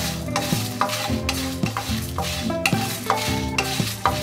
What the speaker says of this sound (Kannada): ಎಲ್ಲನೂ ಹಾಕಿ ಡ್ರೈ ರೋಸ್ಟ್ ಮಾಡ್ಕೋಬೇಕು ಲೋ ಫ್ಲೇಮಲ್ಲಿ.